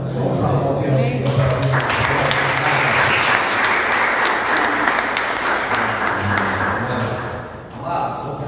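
A church congregation at a Brazilian family worship service applauds together, a loud, dense and steady wash of clapping that fills the room for several seconds, with some voices mixed in and a slight fade near the end.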